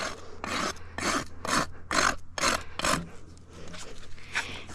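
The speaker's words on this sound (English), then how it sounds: "to smooth that out, I'm going to pull up on the rasp" Rasp filing a mini pony's hoof with about seven rough, rhythmic strokes, each a close scratchy rub followed by softer trailing scrapes.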